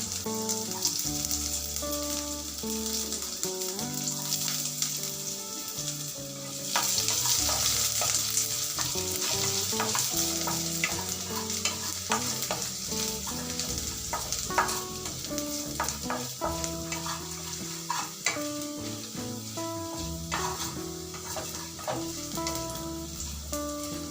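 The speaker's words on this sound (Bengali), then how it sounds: "তারপর কুচিয়ে রাখা রসুন ও আদা দিয়ে ভালো করে ভাজা ভাজা করে নেব।" Chopped garlic and ginger fry in hot oil with cumin seeds and a green chili for palak paneer, giving a loud, steady sizzle with scattered crackles and spatula stirring throughout.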